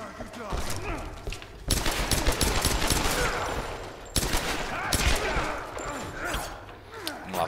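Enemy gunfire in Tomb Raider: rapid bursts of automatic shots come in two loud volleys with brief pauses between them, with thuds and a faint voice in the background.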